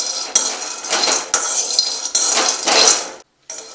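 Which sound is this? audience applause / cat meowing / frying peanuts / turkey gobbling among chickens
frying peanuts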